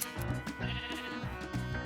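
Minecraft sheep bleat in a few quick, wavering calls, fairly clear and close against a soft game background with no talking.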